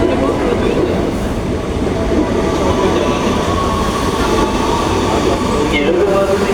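A commuter train bound for Manggarai pulls into a station. Its rolling rumble and rail noise fill the clip loudly and steadily, with a faint squeal near the end.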